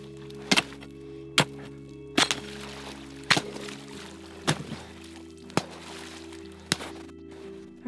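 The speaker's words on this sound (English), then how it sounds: "I'll have to chisel you out of there" Sharp chisel blows chip at ice to free a fox caught in a muskrat trap on a frozen shore. About eight distinct knocks land at irregular intervals over a low steady hum, with no talk.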